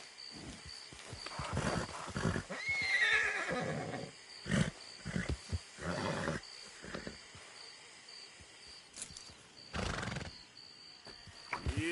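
Horse in Red Dead Redemption 2 neighing and whinnying, with hooves clip-clopping and shuffling amid outdoor wilderness ambience with crickets, fairly close and moderately loud in uneven bursts.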